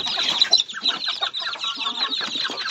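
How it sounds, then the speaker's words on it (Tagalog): Native chickens cluck and chatter in quick, overlapping bursts close by, a busy flock sound with short pauses between clucks. "lumabas na yung ating mga alagang chicken"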